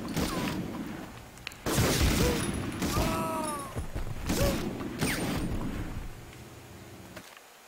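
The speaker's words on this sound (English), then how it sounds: "I want to use the turret gun." A turret gun fires in Medal of Honor on the original PlayStation, producing loud mechanical bursts and booms in several separated blasts, with whistling effects between them before the din cuts off abruptly.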